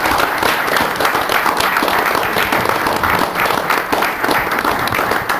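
Audience applause at a city council meeting, steady dense clapping from a crowd that holds evenly throughout with no pauses.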